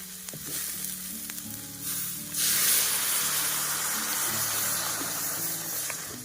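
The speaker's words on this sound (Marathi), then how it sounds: "आता टाकायचं आपण पाणी" Water poured into a hot pan of dried bombil fish curry cooking over a village wood-fired stove, a sustained close sizzle that swells into a louder hiss and steaming rush midway, then settles into steady frying.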